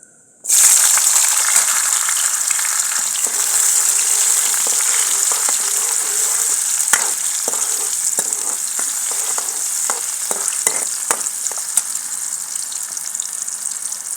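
Tomatoes fry and get stirred in a pan for Punjabi kadhi, a loud steady sizzle with scraping spoon clicks running through the whole stretch, no voices.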